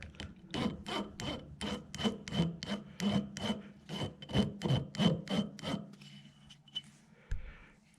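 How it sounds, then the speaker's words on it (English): The file on a Leatherman Free P4 multitool rasps in about a dozen quick, evenly spaced close strokes, each a gritty scrape, then stops and is followed by a couple of faint handling knocks. "File works very well."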